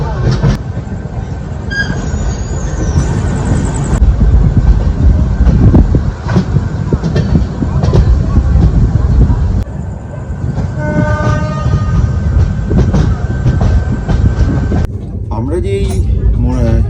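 A Darjeeling Mail passenger train running from NJP toward Sealdah rumbles loudly and continuously on the rails, with rhythmic wheel clatter, brief squeals and a horn-like tone partway through.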